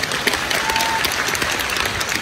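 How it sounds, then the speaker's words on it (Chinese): A theatre audience applauds at the curtain call of the stage play 《德齡與慈禧》's opening night in Tianjin, a dense, steady wash of many hands clapping close and loud, running unbroken for the whole stretch without any voices. "掌声欢迎"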